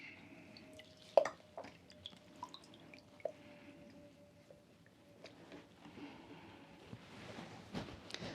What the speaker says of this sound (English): I'm just going to wash that off my hands.